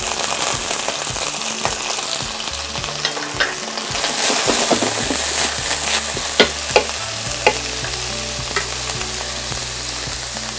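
Vegetables (napa cabbage stems and carrot) stir-frying in a pan on an LG DIOS induction cooktop, a steady loud sizzle with clattering stirring strokes and a few sharp utensil knocks, no talking.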